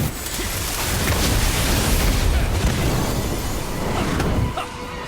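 A Confringo blasting spell in the Harry Potter: Magic Awakened video game bursts into a loud, roaring explosion that rumbles on for several seconds before cutting off abruptly.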